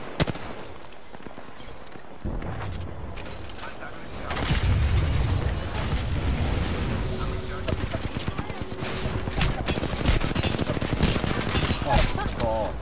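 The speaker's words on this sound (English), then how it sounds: "Being shot at." Rapid gunfire aimed at the player in the Apex Legends video game, dense bursts of automatic shots and impacts that build louder partway through, with game sounds and voices mixed in.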